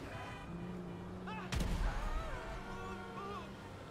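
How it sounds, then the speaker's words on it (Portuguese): A heavy gunshot boom from a GTA 5 alien invasion battle, one sharp loud blast over game music and a tonal sci-fi hum, with rumbling effects trailing after. "Ah, eles vão atirar."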